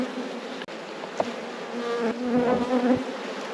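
Honey bees buzzing steadily during a hive inspection, a dense close swarm hum that swells slightly louder toward the end, with a few faint knocks.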